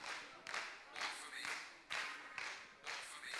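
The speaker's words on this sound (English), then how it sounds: "Clap your hands for the runway." Clapping at a kiki ballroom event for the European Runway category, made of broad, hissing bursts that rise and fall in a loose rhythm of about six waves, fairly faint and distant.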